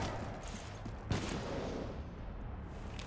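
Gunfire strikes a ship in Mass Effect 3, a low rumbling barrage with one sharp impact standing out, heard beneath a steady loud ambient drone.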